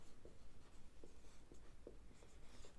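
A pen writes on paper in a quiet, close run of soft scratching strokes with small regular ticks, no voices.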